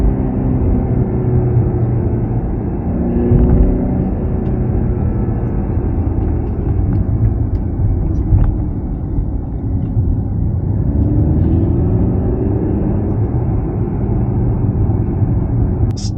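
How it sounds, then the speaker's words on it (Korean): Mercedes C300 in Sport Plus mode with its sound generator active, heard from the cabin as a steady loud low engine rumble and hum with slight swells, no speech over it. "지금 스포츠 플러스 모드로 놨기 때문에 사운드 제네레이터가 활성화되어 있습니다"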